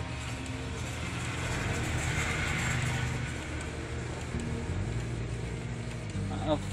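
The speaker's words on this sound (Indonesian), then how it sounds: "Tuh ada kendaraan lewat." Cars and motorbikes pass on a busy road outside, a continuous rumbling engine drone that swells and fades as traffic goes by.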